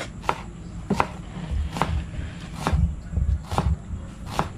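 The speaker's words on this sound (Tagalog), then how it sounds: "Gaya tayo sibuyas." An onion being chopped on a board for a catch-and-cook meal, about eight evenly spaced knife thuds, close and clear over faint background noise.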